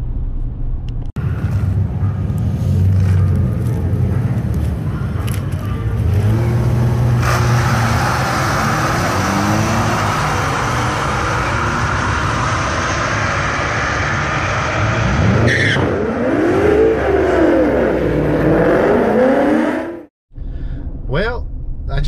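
A Chevrolet Colorado truck accelerates hard down a drag strip, its engine rumble rising through several gear changes. It is heard loudly from inside the cab with wind roar, then drops off abruptly at the end.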